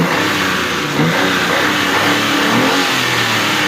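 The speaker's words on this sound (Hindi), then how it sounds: "ये हल्की रेस दो। रेस भी सही ले रही है। हाँ रेस सही ले रही है गाड़ी।" A 2021 Suzuki Alto car engine, which has had trouble starting, revs steadily nearby with rising and falling pitch, loud and alone with no talk.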